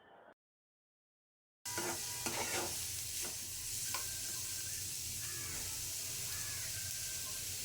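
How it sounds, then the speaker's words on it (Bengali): Chopped onion, garlic and ginger frying in oil as ground beef bhorta is prepared, a loud continuous sizzle with repeated spatula scrapes and stirring, starting after a brief silent gap. "পেঁয়াজ রসুন মিডিয়াম ভাজা হয়ে গেলে কিছু আদা কুচি অ্যাড করছি"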